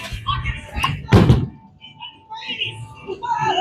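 A Motiv Venom Shock bowling ball rolls down the lane and crashes into the pins in one loud, sharp burst, with quieter alley rumble and low background voices before and after.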